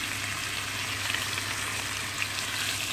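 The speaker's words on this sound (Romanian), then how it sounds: "În această tigaie am pus un cup de unt și voi căli" Bacon frying in melted butter in a pan gives a steady, close hiss and crackle of sizzling fat, continuous and even throughout with no voices.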